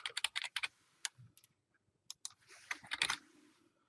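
Password being typed on a computer keyboard, close and quiet: quick bursts of key clicks with short pauses between, then a final flurry of keystrokes.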